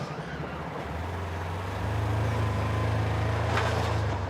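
A Polaris Ranger side-by-side off-road vehicle drives along a trail, its engine a steady low hum that swells louder about halfway through and holds, with no talking.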